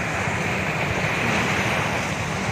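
Continuous rushing surf washes steadily at night, a dense broad roar of ocean waves on a shore with a touch of wind, no voices.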